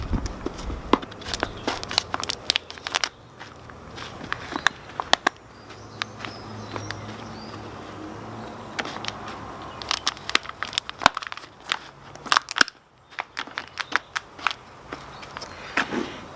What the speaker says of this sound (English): Get your compost compressed down into there.